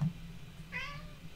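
A single short cat meow, faint and slightly distant over a low background hum, in a quiet room with no speech.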